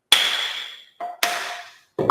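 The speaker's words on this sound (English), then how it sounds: "So this is how you do it using a plane hammer." Sharp metallic taps of a small plane hammer striking a wooden hand plane to retract the blade while jointing a board, three or four distinct ringing hits with short decays, close and alone.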